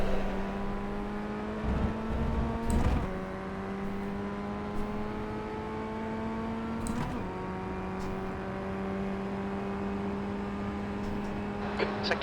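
A Formula Ford FF1600 race car in iRacing lapping the Rudskogen circuit, its engine droning steadily at high revs with gear shifts and dips as it brakes and accelerates through corners, loud and continuous.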